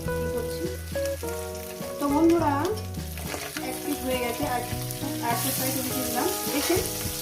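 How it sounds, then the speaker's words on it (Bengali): Small mourala fish fry gently in shallow oil with a steady, soft crackle, running continuously under prominent background music, growing slightly brighter toward the end. "এপি টপি করে একটু হালকা হালকা করে ভাজবো"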